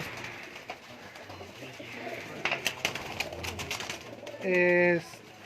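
Lakha pigeons at a village loft in Ladowana, Nankana Sahib give a few soft coos and brief wing flutters against a busy background, with a loud clear call near the end; people talk at times.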